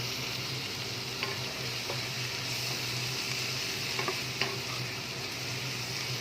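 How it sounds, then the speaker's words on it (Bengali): Green chillies and chopped tomato frying with softened onions in a pan, a steady broad sizzle with soft stirring scrapes and a few light clicks, close and continuous, no voices. "এটাকে একটু ভালো করে কষিয়ে নেব।"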